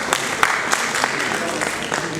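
Audience applause greeting a speaker at a design and construction technology talk, a brisk, fairly close patter of many hands with a few sharper claps standing out, steady throughout.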